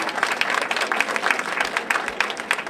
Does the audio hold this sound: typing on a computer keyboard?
no